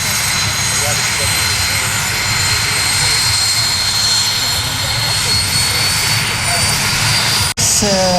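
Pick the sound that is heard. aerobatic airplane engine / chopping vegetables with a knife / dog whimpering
aerobatic airplane engine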